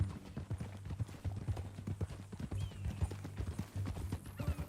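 Horse hooves clip-clop in a steady, close rhythm from Red Dead Redemption 2, with a short neigh near the end, alone without talk.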